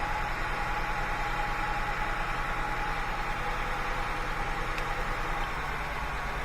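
A Honda Accord engine with multiple misfire faults idles steadily with one ignition coil unplugged. A constant mid-pitched rumble with a faint rhythmic pulse holds close and loud throughout, with no talk over it.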